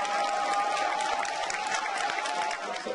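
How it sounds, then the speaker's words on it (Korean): A crowd at a Korean community gathering held during a Korea–US summit trip applauds, with a dense, sustained clatter of many hands at an even level, some cheering mixed in. "여러분 큰 박수 부탁드립니다."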